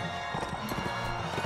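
Horse hooves clip-clop at a riding pace in the medieval combat game Mount and Blade: Warband, a steady rhythmic drumming of hoofbeats at close range with no talk over it.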